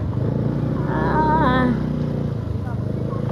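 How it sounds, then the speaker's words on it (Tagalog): A motorcycle runs along a narrow rural road near rice fields in Candijay, Bohol, its steady engine drone continuing under a person talking nearby. "Og musakay pa mi motor ngadto sa pasud."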